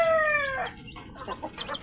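High, thin peeping calls from one-month-old chicks, a quick run of cheeps fading into softer chirps.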